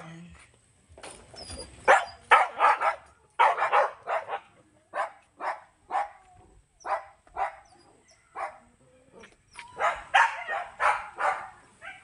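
Dogs bark repeatedly in uneven bursts, some yips and sharp barks close by, with occasional voices between them.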